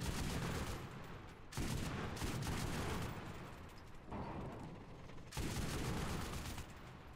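Heavy repeated cannon fire in a Pacific War video game booms continuously in dense, loud bursts, with brief pauses between volleys and no talking.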